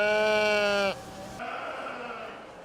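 Sheep bleating at a Harvest Festival lamb and goat show on county fairgrounds, one loud, close, sustained bleat lasting nearly a second, then a quieter murmur of fairground background noise.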